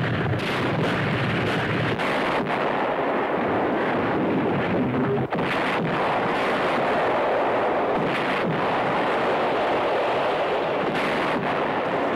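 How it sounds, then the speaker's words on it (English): Saturation artillery shelling in a wartime battle scene: a dense, continuous roar of explosions and rumbling blasts, loud and overlapping, with sharper bursts breaking through the barrage throughout. "Saturation shelling. They're trying to dig us out."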